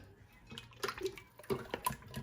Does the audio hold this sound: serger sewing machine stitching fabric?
no